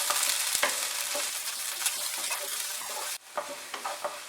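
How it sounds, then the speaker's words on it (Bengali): Chopped onion frying in a pan over medium heat for vegetable soup, with a loud bright sizzle and stirring scrapes that cut down abruptly near the end, leaving a quieter crackle with a few clinks. "পেঁয়াজটাকে দেওয়ার পরেও আমি আরো 1 মিনিট এটাকে ফ্রাই করে নেব"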